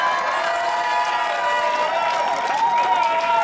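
An outdoor fan-zone crowd applauds a band with sustained clapping and cheering that runs the whole time, with tonal music or voices ringing through the mix.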